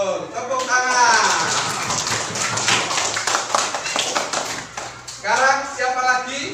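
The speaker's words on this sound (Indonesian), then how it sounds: "Ya, betul. Tepuk tangan." Children in a classroom clap their hands in a dense, quick burst of applause lasting several seconds. Voices speak before and after it.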